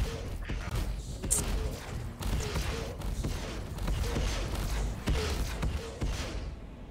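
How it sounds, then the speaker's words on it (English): A Cutlass ship fires on the crew in Star Citizen, a rapid string of dull thudding shots over a constant rumbling hum, moderately loud, no talk heard. "Cutlass is shooting at us."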